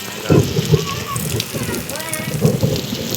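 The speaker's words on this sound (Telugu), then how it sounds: "ఇది వర్షం పరిస్థితి బయట ఇట్లా ఉంది" Heavy rain pours steadily outside in the background while a person talks over it, the downpour loud and constant throughout, with water coming into the house.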